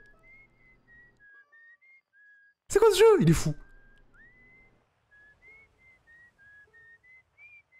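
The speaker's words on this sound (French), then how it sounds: "Y'a quelqu'un qui siffle sur la lune!" A melodic, wavering whistled tune drifting faintly and continuously on the moon in the space exploration game Outer Wilds, briefly interrupted by an excited player's voice.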